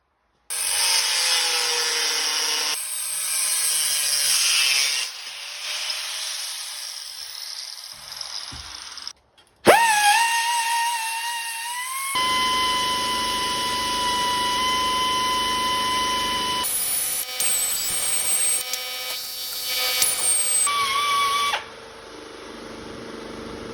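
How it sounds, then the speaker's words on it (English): A power tool cutting a hole in a metal steering column mount plate on a 1971 Cutlass, loud whining and grinding in long bursts with pitch shifts and brief pauses between cuts. "I've got to cut out the hole right there so I can mount it up"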